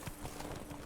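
Rhythmic clip-clop of a horse's hooves at a quick pace in Witcher 3: Hearts of Stone, steady and moderately close over a continuous wash of ambient game background.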